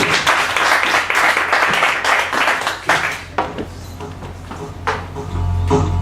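Audience clapping at a small music venue, uneven and moderately loud, tapering off midway with a few scattered claps and a low hum underneath.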